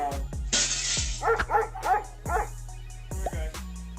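A Labrador barks and yips several times in quick succession, close and loud, with whimpering tones mixed between the barks.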